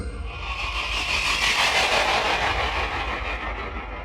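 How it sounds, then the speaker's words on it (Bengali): A train rushes past with a broad, steady roar that swells and then begins to fade as it moves off, no voices present. "দুরন্ত গতিতে ট্রেন যেন আমার চেষ্টাকে উপহাস করতে করতে বেরিয়ে গেল"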